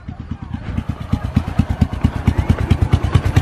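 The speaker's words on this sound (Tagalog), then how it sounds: "iniwanan niya bukas yung motor. Maandar pa." A motorcycle left switched on, its engine idling close by with a steady rapid low putter that lasts the whole stretch, while people talk nearby.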